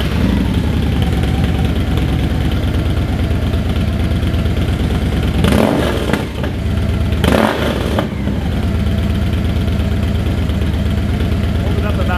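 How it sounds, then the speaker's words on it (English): A motocross dirt bike fitted with Gonzo aftermarket mufflers idles with a steady, loud, throbbing engine drone, broken by two brief bursts of rattling noise midway, while a voice talks over it. "here we're about to start up the Gonzo pipes"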